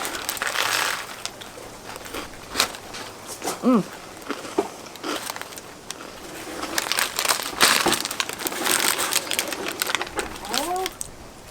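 Someone bites and chews a crispy ham bread roll with chili sauce in Robe, South Australia, with crunchy crackling bites and chewing close to the mic, broken by brief pauses.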